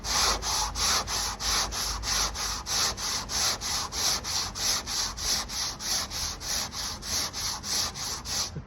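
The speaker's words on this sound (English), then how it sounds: "Block, put it on, keep it as flat as you can, don't push down on it." Hand sanding a VW Transporter rear door with a sanding block, steady rhythmic back-and-forth rasping strokes, close and even, repeating about three times per second.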